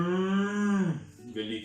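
Large black cows in a barn give a loud, close, drawn-out moo that holds steady and then drops away, followed by softer barn noise.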